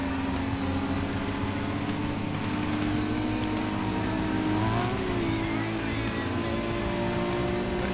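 A Mitsubishi Eclipse engine in Need for Speed Underground 2 drones steadily at high revs, with a sustained whine that dips and climbs briefly mid-run and faint rumble underneath.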